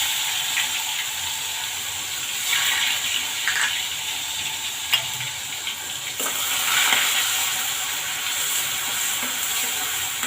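Onions sizzle in hot oil with whole spices, black and green cardamom, cloves and peppercorns, while Punjabi-style rajma masala is cooked; a steady, moderate frying hiss runs throughout with faint stirring touches.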